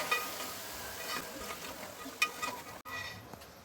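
Cauliflower, peas, potato, carrot and beans are stirred and sautéed in a pan, giving a soft sizzle with scraping stirs, close and quiet, with a brief pause near the end.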